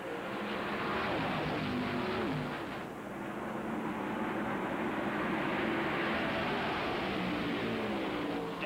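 A pack of stock cars races at the 1991 Champion Sparkplug 400 in Brooklyn, Michigan. Their engines make a continuous, dense roar that swells and dips slightly as they pass, heard at a distance with no voices.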